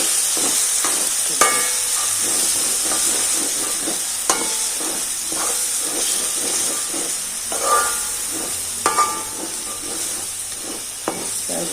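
Fish curry frying in a pan as fenugreek powder and cumin powder are stirred in: a steady close sizzle with scattered scraping and clinking strokes of the spoon against the pan.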